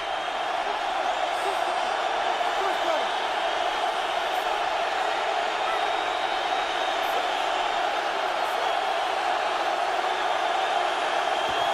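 A football stadium crowd at a Seahawks home game against the Lions roars in a sustained, dense wall of cheering that holds steady throughout without pauses.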